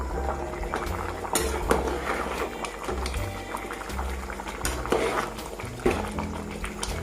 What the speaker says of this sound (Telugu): సో కొంచెం సేపు అయితే ఇలా ఉడకనిద్దాం